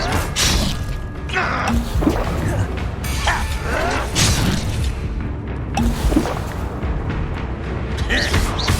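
Incendio and Expelliarmus spells cast in a combat scene in the video game Hogwarts Legacy: booming bursts, whooshes and crashing impacts follow one another steadily. Voices shout over the effects the whole time.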